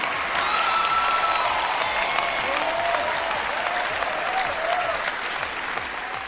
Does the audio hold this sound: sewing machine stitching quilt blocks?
no